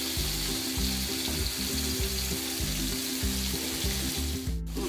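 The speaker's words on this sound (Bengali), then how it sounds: "চিংড়ি মাছ বেশি ভাজা লাগে না" Shrimp frying in oil in a pan, a steady, fairly loud sizzle running throughout with a faint clink near the end, no speech.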